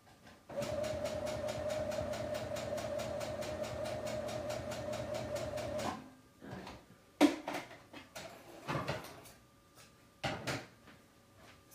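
Sewing machine running a straight stitch, a rapid steady mechanical clatter for several seconds that stops, followed by scattered quiet clicks and handling noises.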